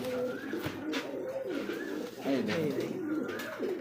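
Satin Lahori Lakha pigeons coo repeatedly in soft rolling phrases, close by, with faint background noise.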